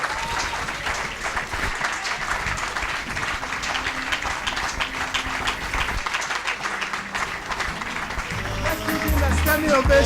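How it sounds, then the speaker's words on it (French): A church congregation rises in a standing ovation, sustained clapping from a large crowd that swells louder toward the end, with a voice speaking over it. "Standing ovation, a standing ovation, a better clap offering"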